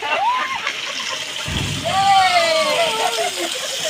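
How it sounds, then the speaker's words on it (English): A small waterfall rushes steadily close by, its water noise continuous throughout, while a voice talks over it and a chirpy tonal sound sweeps through. "this is a small waterfall, guys"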